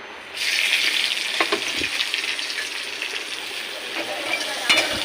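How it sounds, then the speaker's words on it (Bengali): Panch phoron, green chili and bay leaf fry in hot oil in a wok, a bright, continuous sizzle that swells after a quiet start, with a few light stirring knocks. "কাঁচা লঙ্কা, তেজপাতা আর 5 ফোড়ন।"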